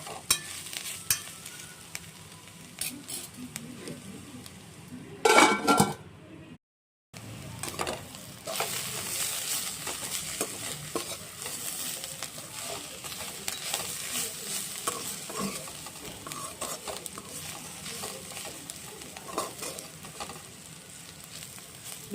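Green beans stir-frying with spices in a pan for a village-style beans poriyal, a steady sizzle with scraping stirs throughout, briefly dropping out near the middle before resuming alone.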